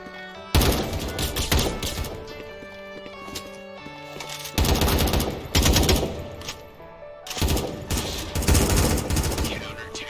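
Rapid bursts of automatic gunfire in the Roblox shooter Counter Blox, three loud clattering volleys separated by quieter stretches that still hold a sustained tone.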